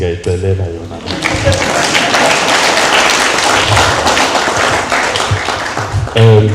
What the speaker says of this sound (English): I wish to request a round of applause